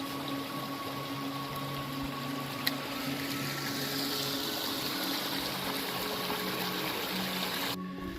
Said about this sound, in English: Let's take a look at this little creek that we got running alongside us.